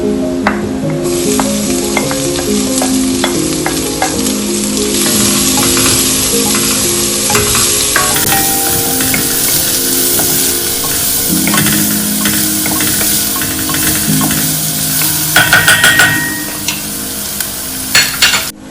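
Onion and garlic sautéing in a pan for white sauce pasta, a loud continuous sizzle close up with frequent spatula scrapes and clinks against the pan, no voices.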